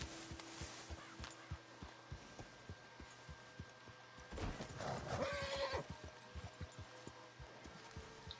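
A horse in the Red Dead Redemption 2 video game gives a loud, shrill neigh midway, set against steady rhythmic hoof clip-clops on a quiet trail.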